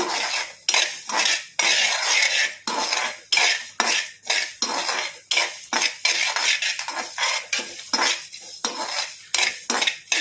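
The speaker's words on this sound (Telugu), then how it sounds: "మిరియాలు లవంగా చెక్క ఇలాచి ఇది మొత్తం అయితే వేయించుకో ఇది మొత్తం అయితే బాగా వేగాలి" Whole spices, pepper, cloves, cinnamon and cardamom, are dry-roasted in a pan for chicken pickle, heard as rhythmic metal ladle scrapes and clinks against the pan, regular strokes about twice a second, close and loud, without voices.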